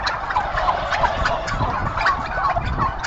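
Several turkeys gobbling around the listener, repeated rapid warbling calls overlapping at moderate volume over a noisy background.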